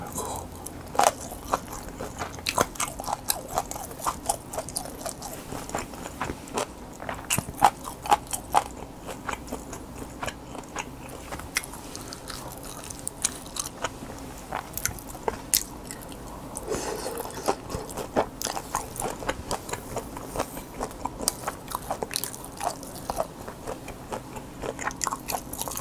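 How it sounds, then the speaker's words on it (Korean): Kimchi wrapped in seaweed is bitten and chewed, close to the microphone. Crisp crunches and wet, squishy chewing repeat steadily for a long stretch with no talking. "제가 좋아하는 거는 김치에다가 이렇게 김에 이렇게 싸먹는 거"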